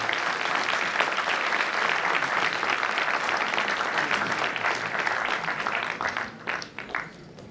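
Loud, sustained applause from a large crowd at a university inauguration ceremony, steady and dense, tapering off into scattered claps near the end.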